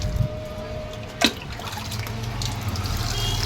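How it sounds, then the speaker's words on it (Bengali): Water poured onto potted plants outdoors on a warm, sunny morning, a steady close trickle and splash running throughout with a brief sharper spill near the start. "এবার গাছগুলো একটু জল দিয়ে দিই"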